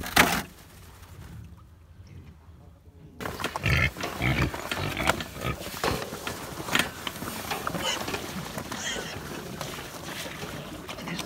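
Farm pigs being given a bucket of milk, grunting and slurping close by in a dense, busy stream of noisy snuffling that grows louder after a brief quieter start.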